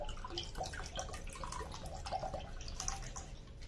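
Water poured into a pot of lentils set to boil with onion, garlic and green chilli, a close, soft continuous splashing and trickle with no voices.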